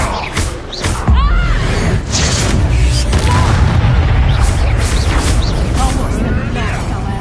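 A Confringo blasting spell explodes in the Hogwarts Legacy game: a loud, deep boom about a second in, followed by sustained rumbling blasts and combat noise, with voices calling out over the top.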